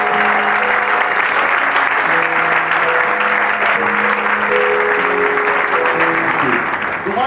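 A church congregation bursts into sustained, even applause to welcome Reverend Godson Nimbo, a dense wash of clapping under steady organ-like tones, holding loud for about seven seconds before tapering slightly at the end.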